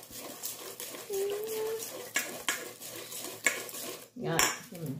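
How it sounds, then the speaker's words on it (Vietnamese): Crepe batter stirred in a bowl with a utensil, quiet rhythmic scraping and clinking strokes at close range, ending in a louder clatter. "Trộn cho nó đều từ từ xong rồi mình mới trộn tiếp."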